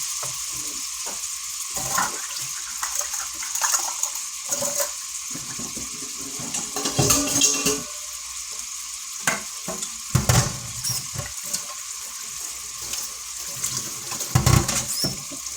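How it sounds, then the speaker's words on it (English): Grease drained from cooked hamburger meat for spaghetti gives faint, intermittent sizzling and pouring liquid sounds with scattered clinks, fairly quiet and without talk. "I'm going to go ahead and drain the hamburger."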